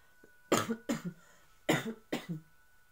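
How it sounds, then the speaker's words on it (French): Four short, fairly soft coughs in two pairs, each pair close together, with quiet between them. "je tousse encore beaucoup"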